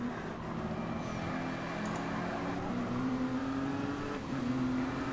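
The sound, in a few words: race cars driving at Spa Francorchamps, racing video game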